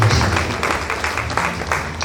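Applause at a pharmacy induction and oath-taking ceremony, a crowd clapping in a continuous even patter with a voice briefly over it at the start.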